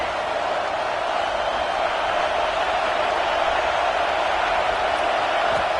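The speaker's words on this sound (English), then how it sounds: "This crowd bringing the energy and noise early." A football stadium crowd at a Florida versus LSU game makes a steady, dense roar. It is loud and continuous with no breaks, a broad wash of many voices from all around.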